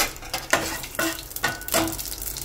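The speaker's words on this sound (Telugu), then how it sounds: "పోపు వేగుతుంది" Oil sizzles and crackles steadily as spices fry, with intermittent scraping of a spoon stirring in the pan close by.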